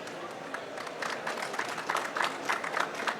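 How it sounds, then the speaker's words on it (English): An audience at a panel discussion gives moderate applause, scattered claps thickening into a fuller patter, fairly faint and distant in the room. "This applause is for you."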